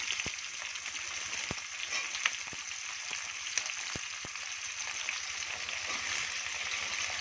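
Capsicum and onion frying in a pan for chilli chicken, a steady close sizzle with scattered sharp pops and crackles throughout, no voices.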